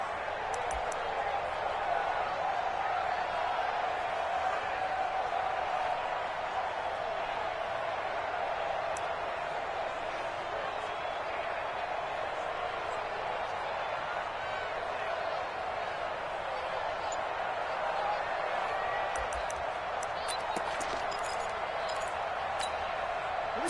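A football stadium crowd in a video game roars steadily for the whole stretch, a dense, even wash of cheering with no breaks, while a commentator talks over it.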